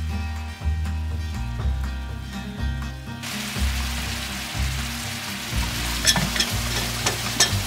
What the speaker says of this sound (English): we're going to pour our reduced glaze right over the top of those meatballs in the pan